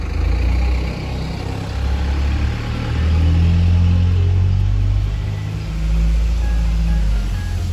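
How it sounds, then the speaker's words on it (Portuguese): A truck passes close by on a street, its loud engine rumble swelling and revving, easing, then building again over several seconds. "passou um caminhão e fez barulho"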